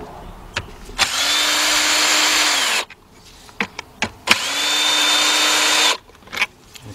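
Power tool spinning out two 10 mm bolts on a 2005 Nissan Pathfinder 4.0: two loud, steady whirring runs of about two seconds each, close up, separated by clicks and light metallic handling noises.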